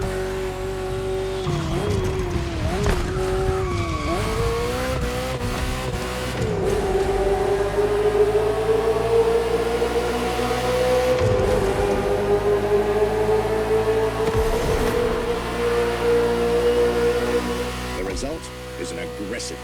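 A Ferrari F40 race car roars through a Motorfest racing game, its engine drone climbing and sweeping in pitch with bursts of tire squeal, steady and loud under a narrator's voice throughout.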